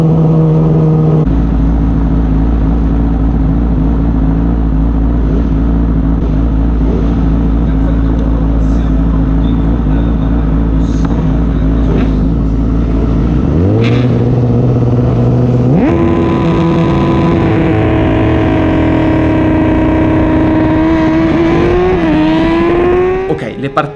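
Racing cars at a Pirelli cup race start, a loud engine droning steadily and then revving higher through gear changes, with a voice talking over it.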